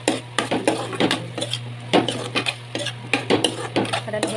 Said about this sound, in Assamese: আৰু মই এতিয়া ধুনীয়াকৈ আকৌ এইখিনি লৰাই মিক্স কৰি দিম।